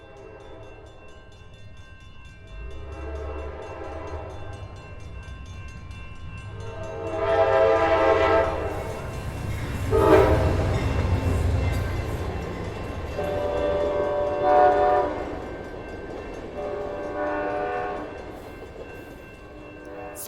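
The Crescent passenger train rumbles along with a low, continuous rolling noise while its horn sounds several long blasts at intervals, loud and fairly close, with no talk.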